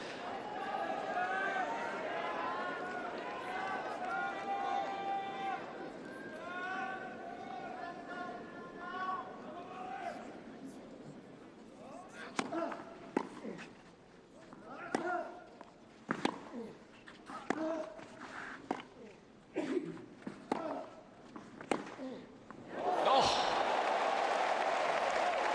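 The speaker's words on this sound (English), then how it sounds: "you can really hear the crowd when he starts loading up for that backhand cross court" A tennis crowd at the 2015 Roland Garros final between two players, with sustained cheering and applause at first, then scattered shouts, claps and rally sounds, and a loud swell of applause at the end; commentators talk over it.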